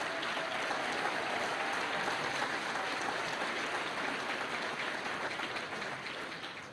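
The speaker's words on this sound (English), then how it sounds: "please give these 20 outstanding educators one more round of applause" Sustained, dense applause from an audience at the 2023 Delaware Teacher of the Year ceremony, an even wash of many hands clapping that holds steady throughout and tapers slightly at the end.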